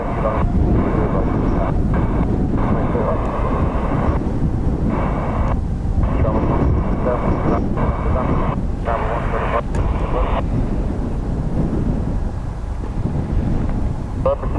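An American Airlines jet arriving from DFW lands at Dublin Airport, its loud, continuous engine roar rumbling under heavy wind buffeting and bursts of nearby talk.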